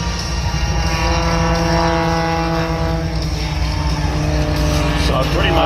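A Pitts Special aerobatic plane with a different, thinner wing flies at the Warbirds over Wanaka airshow, its engine a loud, continuous droning buzz with steady harmonic tones, while people talk over it.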